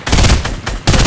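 Rapid gunfire in the video game Fortnite, a loud burst of closely spaced shots followed by a brief pause and another burst.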